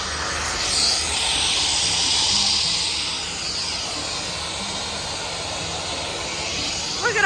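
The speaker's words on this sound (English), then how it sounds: "it's so loud. There's so many planes parked here." Loud aircraft engine roar and hiss from floatplanes parked at a lake near Lake Clark fills the air, swelling briefly early on before settling into a steady, close drone.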